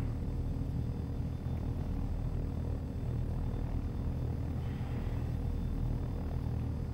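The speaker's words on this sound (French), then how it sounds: "on prend les commandes de l'hélico" Helicopter in the flight game Take On Helicopters, a steady low rotor and engine rumble that drones on unchanged throughout, with no talking over it.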